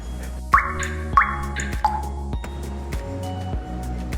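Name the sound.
aloe vera gel being put into a bottle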